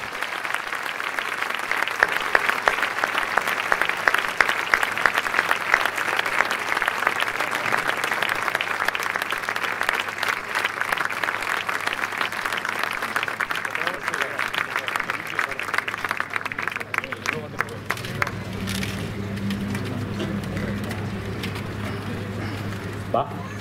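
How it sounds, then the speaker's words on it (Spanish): Sustained audience applause at a public tribute event in Reus, dense clapping from a large crowd that holds steady for a long stretch before thinning out, with a voice speaking near the end. "Un fort aplaudiment per Ramon Cotarelo"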